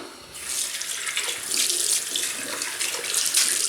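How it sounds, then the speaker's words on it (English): Tap water runs steadily as hands are rinsed beneath it, a close, continuous splashing rush at a sink that swells slightly partway through. "Rinse my hands."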